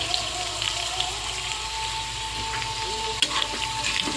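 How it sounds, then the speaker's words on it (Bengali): Potato slices frying in oil in a pan on a gas stove give a steady, close sizzle that runs unbroken throughout, with one brief clack of a utensil partway through. "মেয়ের জন্য আলু ভাজা করছি"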